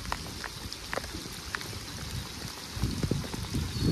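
Pouring rain during a thunderstorm at a bass-fishing spot, heard as a steady broadband patter with scattered sharp drop hits, growing slightly heavier toward the end, with no voices.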